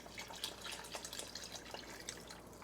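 Beef stock pours steadily into a pot in a Ninja Foodi Pro XL oven, a soft continuous liquid trickle and splash heard up close without talk.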